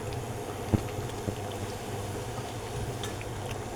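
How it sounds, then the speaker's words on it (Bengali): Milk tea with bay leaves simmering in a pot on the stove, a steady low bubbling rumble throughout with a couple of brief clinks near the start, no voices. "তেজপাতাগুলো ভালোভাবে সিদ্ধ করা হচ্ছে চায়ের ভেতর"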